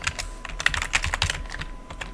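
Quick, light clicks of typing on a computer keyboard while entering code, an uneven patter of close keystrokes with no talk.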